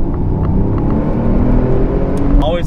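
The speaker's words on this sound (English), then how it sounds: "Love the sound of the turbos." A turbocharged supercar engine rumbles steadily while driving on a road in Mexico, a loud, continuous low drone with a slight whir and one brief higher whine near the end.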